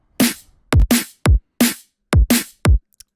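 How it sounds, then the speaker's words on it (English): A simple kick and snare drum loop from an electronic track plays alone: deep, punchy kicks alternate with sharp snare cracks in a steady, even pattern of about eight hits. "just using this kick snare loop."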